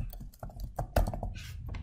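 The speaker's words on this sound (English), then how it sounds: "You can type in the author email." Typing on a computer keyboard: a quick, irregular run of close key clicks and taps, fairly quiet, with no voice.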